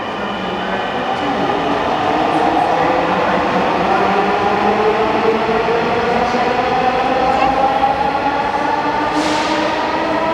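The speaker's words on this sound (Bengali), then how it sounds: "চলে যাচ্ছে মেট্রো রেল" A Dhaka Metro Rail train rumbles loudly and steadily close by, its motor whine shifting in pitch as it pulls away along the track northbound toward Uttara.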